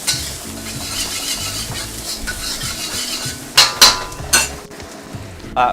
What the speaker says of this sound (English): saute it until it becomes fragrant